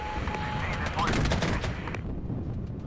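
Gunfire and artillery barrage in the PC strategy game Regiments, a dense burst of rapid overlapping shots and blasts, loud and close, fading out toward the end.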